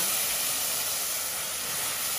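Rice added to frying onions in a pan hisses and sizzles loudly in a continuous, even, close-up crackle, with no voice over it.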